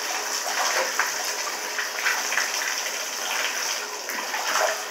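Tap water runs steadily into a tub for a dog's bath, a continuous close hiss and gush with no talking.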